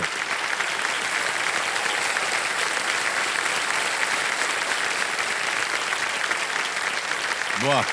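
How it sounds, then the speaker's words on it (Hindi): Studio audience on the KBC quiz show applauding loudly and steadily, a dense continuous wash of clapping filling the whole stretch. "ताली बजती रहे जोरदार इनके लिए"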